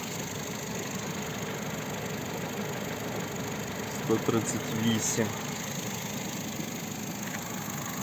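A Ford Fusion running on petrol and gas idles with a low, steady, even hum, faint and close, while someone speaks over it.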